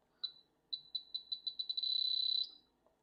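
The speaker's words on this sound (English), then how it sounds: "You will hear a strong beep towards the end." A series of high electronic beeps from a radio transmitter for a Blade 90 FP model helicopter speeds up, quickening until it merges into one sustained tone, then cuts off; faint and isolated.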